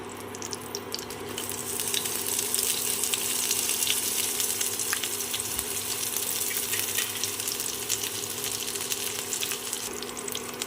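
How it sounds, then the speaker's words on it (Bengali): Chopped onion frying in hot oil in a pan after eggplant pieces were fried, a steady close hiss and sizzle with faint stirring clinks, a low constant hum beneath. "তেল গরম হয়ে গেছে দিয়ে দিচ্ছি পেঁয়াজ কুচি"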